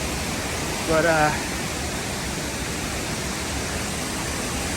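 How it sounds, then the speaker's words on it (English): A huge waterfall rages at Dupont State Park, a loud, steady roar of falling water close by that fills the whole scene, with a brief spoken voice near the start. "gonna get up close and front personal view here of a huge waterfall"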